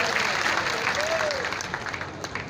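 Applause from a crowd at an outdoor political rally in Chhatarpur, a broad steady wash of clapping that runs throughout, slightly thinning toward the end, with a faint voice briefly audible over it.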